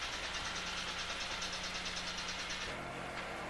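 A large asphalt paver's diesel engine runs steadily at close range on a road paving job, a continuous low mechanical drone with broadband rumble that shifts slightly in tone near the end.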